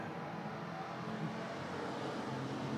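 Bomber-class race cars roar at Arizona Speedway on a green-flag restart, a steady, fairly distant engine drone from the pack without clear passes.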